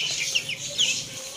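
Hen clucking at a farm among ducks, quail and chicks, with a few short, moderately faint clucks and chirps over quiet background for about a second and a half, no talking.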